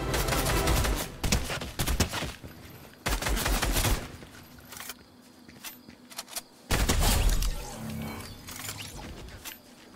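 Bursts of video-game gunfire in Fortnite, rapid repeated shots in loud clusters with pauses between volleys and a faint voice now and then.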